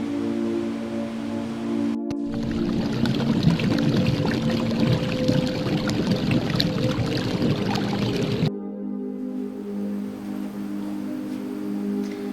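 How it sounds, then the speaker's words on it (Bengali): Dry mung dal, one cup of it, poured into a pan, making a loud continuous rushing patter of grains that runs for about six seconds and then stops abruptly. "প্রথমে মুগ ডাল নিয়েছি 1 কাপ পরিমাণ, ঢেলে দিচ্ছি"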